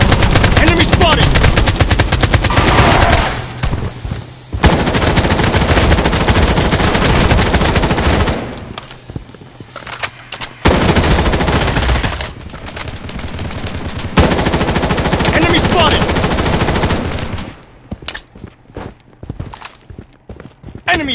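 Rapid automatic gunfire in the shooter game Project Bloodstrike, loud bursts rattling in long runs, broken by brief pauses and scattered single shots, with footstep-like clatter between volleys.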